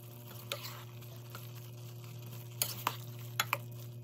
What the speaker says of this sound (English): Now I'm going to add my butter and a tablespoon of freshly grated ginger.